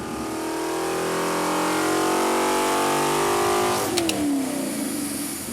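Recycled 5.7L Hemi V8 pulling to 6000 rpm on a dyno, its loud engine note rising steadily in pitch for nearly four seconds, then dropping sharply as the throttle closes, with a brief clatter as it winds down.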